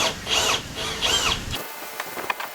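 A power drill whirs in two short bursts, unscrewing diagonal supports on a homemade wooden dock, followed by a few light knocks and clicks; loud and close, no voices.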